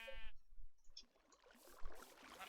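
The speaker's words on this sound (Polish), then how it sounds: "tak się prezentuje ogólnie moja farma owiec" Sheep bleating on a sheep farm in Minecraft, a short nasal bleat at the start and then a noisy patch of game sounds, all faint and with no talking.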